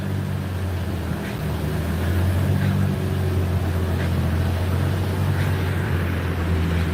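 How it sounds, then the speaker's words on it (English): A car engine runs steadily on an outdoor dyno, a continuous low droning rumble with a hum at the low end and some wind noise, heard from a moderate distance without talk. "There's the dyno, outdoor dyno."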